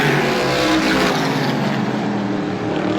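Several SBM 125 race car engines roar loudly and continuously at Star Speedway, a dense high-pitched whine as a pack of cars passes close by nose to tail.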